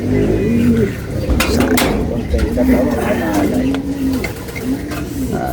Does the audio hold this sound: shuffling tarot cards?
no